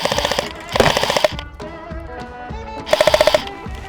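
Novritsch SSP18 or Umarex Glock 18C airsoft pistol firing light 0.32 g BBs on full auto in two rapid, loud bursts of snappy shots, with quieter mechanical clicks and handling noise between.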